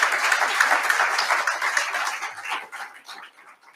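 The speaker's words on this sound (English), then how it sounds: "So a round of applause for Cameron" Conference audience applauding, a steady wash of many hands clapping that thins out and fades over the last second, with no talking.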